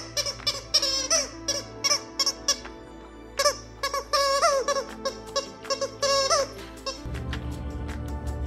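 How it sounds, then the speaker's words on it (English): A puppy's squeaky toy squeaks again and again in quick irregular bursts, loud and close, with short pauses between chewing squeezes and no voices. "there's squeaky toys that interrupt meetings."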